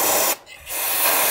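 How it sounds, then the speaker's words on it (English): Cleaner sprays onto a car engine valve cover on an Audi 1.8T during gasket work, a loud close hiss that pauses briefly and then resumes as a continuous spray. "now we spray that down a little bit"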